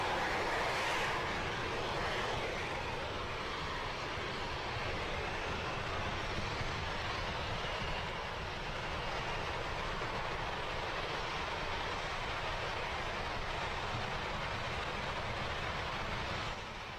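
A SpaceX Falcon 9 rocket climbs through maximum dynamic pressure during the Hispasat 30W-6 satellite launch, its exhaust a steady, broad, distant roar that rumbles without a break for the whole stretch.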